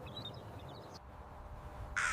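A crow calling in a nesting tree, a few harsh caws standing out briefly over steady low outdoor rumble, with one louder burst near the end.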